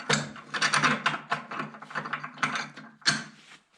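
The folding steel stand foot on a log splitter is swung down, giving a series of close metallic clanks, rattles and clicks in irregular bursts, ending in one sharp knock.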